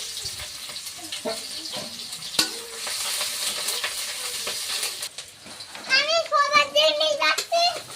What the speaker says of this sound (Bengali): তেলে পেঁয়াজ আর কাঁচা লঙ্কা দিয়ে দিচ্ছি।